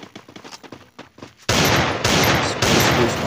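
In a shooting video game on a desert map, a dense, loud burst of rapid automatic gunfire suddenly erupts partway through and keeps hammering to the end, after a quieter stretch of choppy sound.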